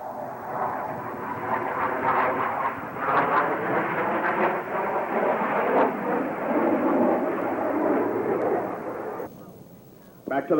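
A Blue Angels jet flying a looping maneuver gives a loud, sustained roar that cuts off abruptly near the end, with a narrator talking over it.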